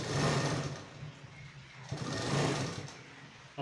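A sewing machine stitches canvas on a school shirt in a steady close whir, easing briefly midway and then resuming.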